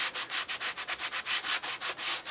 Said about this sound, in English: passes with this sponge to really get them to where they're bright and shiny again